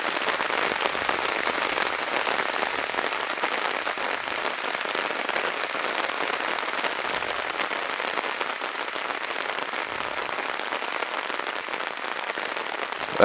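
Heavy rain falling at an outdoor soccer match, a steady, dense hiss of drops on surfaces that stays loud and unbroken throughout, with no voices.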